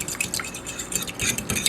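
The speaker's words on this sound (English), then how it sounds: "I'm going to take that pork, give this a good stir" Pork is stirred by hand in a Cuban mojo marinade, making close wet squelches and soft scraping clatter against the bowl in quick uneven strokes.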